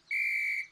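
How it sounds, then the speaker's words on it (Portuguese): One steady, shrill whistle blast lasting about half a second, clean and close, with silence on either side. "Talvez a gente tenha que apitar."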